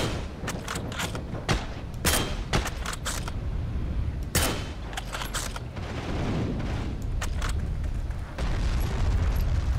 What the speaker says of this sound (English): Someone shooting rockets?